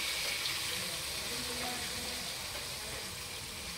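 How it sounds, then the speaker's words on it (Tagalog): A little water pours into a cooking pan in a dim home kitchen, a steady, faint hissing splash lasting several seconds with no talk. "Lagyan natin ng konting tubig."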